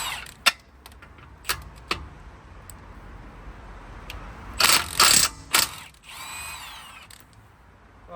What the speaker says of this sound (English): Just going to take the wheels off now.